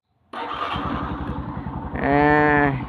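A motorcycle's electric starter whirs, the engine catches and revs up sharply, then settles into a loud idle, close by.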